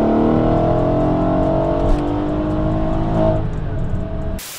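A tuned Mercedes E63 AMG making about 750 hp roars steadily as it revs hard on a downshift, a loud, sustained engine note with one brief surge before it cuts off abruptly at the end.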